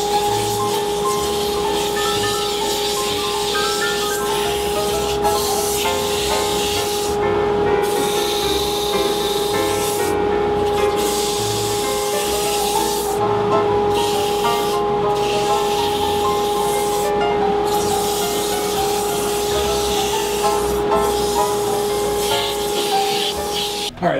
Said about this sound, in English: I'm going to sand it dry because I'm going to put a polyurethane outdoor